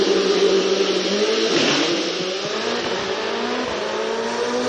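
A hill climb race car launches hard from the start line, its mid-pitched engine revving loud and continuous, close by throughout with no talk.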